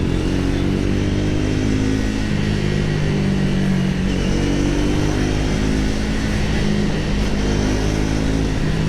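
A Triumph Speed 400 motorcycle drops a gear and accelerates hard, its engine note rising in a loud, continuous roar with wind rush from the rider's position.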